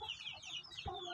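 Chickens in a farm breeding pen where chicks are raised cluck and chirp softly, several birds calling over one another at a short distance.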